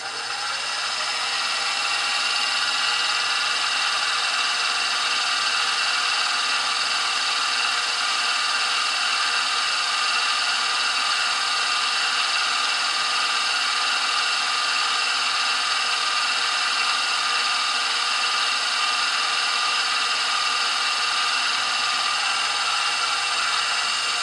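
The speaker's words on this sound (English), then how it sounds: "I'm going to start making the pilot holes there" A drill bores pilot holes in a Vaportrail Blade X base plate, giving a continuous, loud, high-pitched whine that runs steadily without pause and with no talking.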